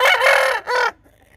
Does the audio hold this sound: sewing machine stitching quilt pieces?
no